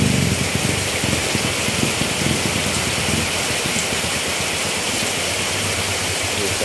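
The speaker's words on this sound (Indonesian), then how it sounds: "hujan lebat banget lur ini Jakarta" Heavy rain pours steadily at a motorcycle service workshop in Jakarta, a loud, dense hiss of drops on roofs and surfaces that keeps up without a break, with a faint engine rumble low underneath.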